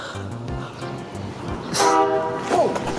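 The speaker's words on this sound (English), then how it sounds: "Up, that's a train." A Reading and Northern freight train led by an SD40 locomotive rumbles past along the tracks, loud and close, with a steady roar and a brief horn-like tone rising near the end.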